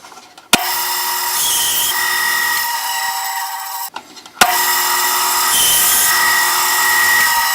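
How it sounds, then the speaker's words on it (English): A bandsaw whines through two long cuts of pen blanks, each starting with a sharp spike and holding a steady high buzz, briefly dropping between them. "Here at the bandsaw, I will cut my blanks to length."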